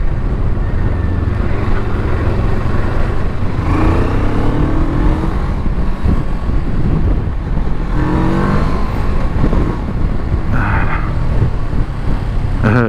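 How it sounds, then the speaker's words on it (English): A Ferrari's engine drones continuously with several rising revs, loud and close over steady wind and road noise, with no talking. "Yay, the Ferrari."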